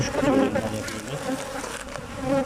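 Honey bees buzz densely around the beehives during hive maintenance for black seed honey, a close, continuous droning hum with no talking.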